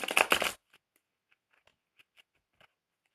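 A quick riffle of tarot cards being shuffled up close, followed by scattered light taps and clicks as the deck settles.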